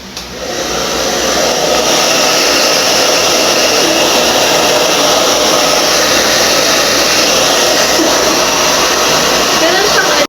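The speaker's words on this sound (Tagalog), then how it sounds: "So, let's try this blower natin." A hair dryer blows steadily and loudly for the whole stretch, a constant rushing whoosh with no pauses.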